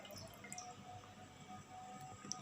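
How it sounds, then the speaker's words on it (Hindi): Chicken pieces for a KFC-style zinger burger lifted out of a bowl of water, giving soft, close drips and trickles with small splashes, steady and quiet without talk. "रख के हम पानी के अंदर से इसे निकाल लेंगे"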